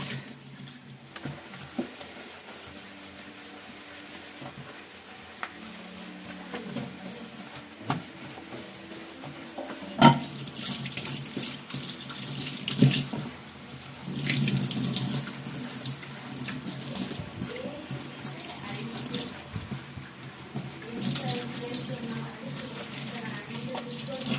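Water runs steadily from a kitchen tap while plates are washed in a sink, with occasional clinks and scrubbing, the flow getting louder partway through; someone speaks now and then.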